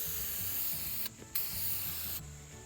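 Clear coat sprayed onto heavily oxidized car paint, heard as a steady close hiss that breaks off briefly, resumes, then cuts out again near the end.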